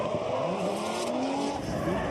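Drift cars running at Fuji Speedway during a competition, with loud continuous tire squeal and skidding over engine noise, sustained and fairly close throughout.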